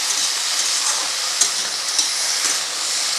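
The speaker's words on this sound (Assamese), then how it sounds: "এতিয়া লৰাই আছোঁ, আধা ভজা কৰি ল'ব লাগিব।" Okra being half-fried in a pan gives a loud, steady hiss of sizzling oil, with occasional faint scrapes as it is stirred.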